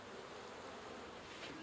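Honeybees in an open horizontal hive make a steady, faint, dense buzzing hum that holds level throughout with no voices.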